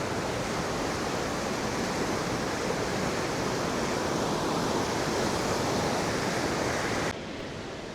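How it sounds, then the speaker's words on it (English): Forceful river rushing below a riverbank in Pakistan, a loud, constant broadband roar of churning water, close and unbroken, dropping slightly at the very end. "The river just looks even more forceful from down here."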